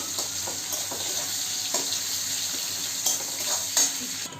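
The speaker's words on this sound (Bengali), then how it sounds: "একটু পেঁয়াজটা লাল লাল করে ভেজে নেব।" Chopped onions frying in oil in a pan with bay leaves and whole garam masala, ahead of a Bengali egg curry; a steady close sizzle runs throughout with a few soft stirring scrapes and no talking.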